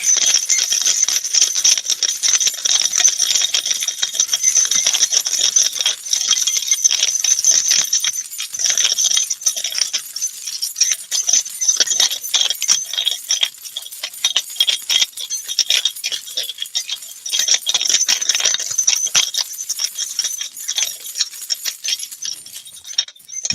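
Two sets of keys jingled continuously for about thirty seconds, a bright metallic clinking and jangling close by with small dips in rhythm, no voices over it.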